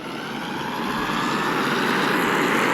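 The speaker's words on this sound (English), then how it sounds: "Jeez, that thing is loud!" Jet engines of an improved Boeing 747-500 in the SimplePlanes game roar steadily and loudly, a dense broadband rumble that swells slightly louder over the stretch with no voices.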